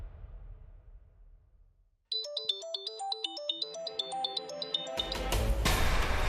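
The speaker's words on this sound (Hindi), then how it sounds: "अंश का फोन।" A phone ringtone breaks a brief quiet and plays a bright, repeating chime melody at moderate loudness. After a few seconds, a louder swell of background music joins it.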